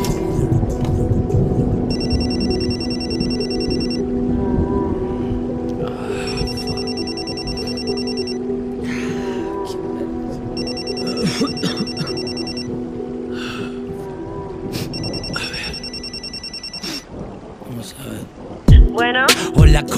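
A telephone bell rings in repeated bursts over a music track with a steady beat, each burst lasting about two seconds with a pause before the next. Voices are heard throughout.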